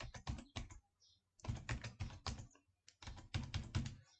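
An Aadhaar number is keyed in on a computer keyboard, heard as three quick clusters of crisp, close keystrokes with brief pauses between them and no voices.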